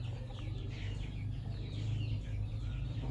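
Soft peeping and clucking chatter from two-week-old chicks runs steadily throughout, close by, over a low constant hum with no talking.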